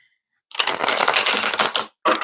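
A deck of tarot cards is shuffled close up, a dense rapid riffle of flicking card edges lasting over a second, then a short second burst after a brief pause.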